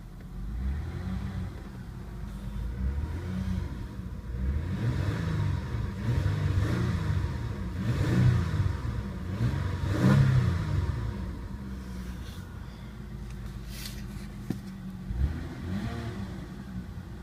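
A 2000 Ford Taurus DOHC engine with 129,644 miles runs steadily up close, revved several times in rising, falling surges over its idle, with no talking.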